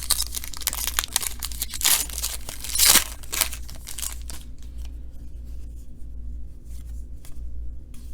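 A 2019 Legacy football card pack being torn open, with close crinkling foil and sharp ripping for a few seconds, then quiet shuffling of cards and faint rustles.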